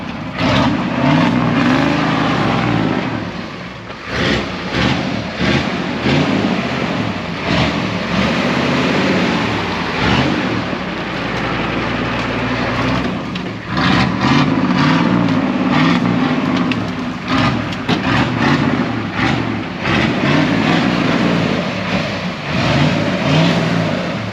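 A van engine revs hard and high to keep it from stalling, surging and dipping in repeated bursts, loud and close, with a brief easing in the middle.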